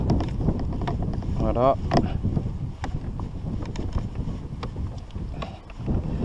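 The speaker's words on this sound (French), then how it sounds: "ce vent, putain, il me gâche tout" Gusty wind buffets a microphone beside a lake on a family carp-fishing camping trip, a loud low rumble that surges and dips throughout, with someone speaking briefly under it.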